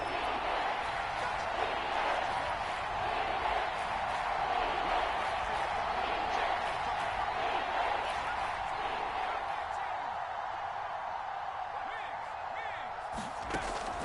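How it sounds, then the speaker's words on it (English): Steady crowd roar from the stands in an American football video game on PS4, building ahead of a big third down, a dense continuous wash of cheering under broadcast commentary. "The crowd getting into it as we come up on a big 3rd down."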